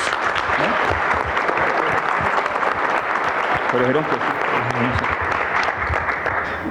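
Audience applause breaks out at a leaders' assembly to honor a newly won collective agreement, a dense, steady clapping that fills the room throughout, with a voice speaking briefly over it midway.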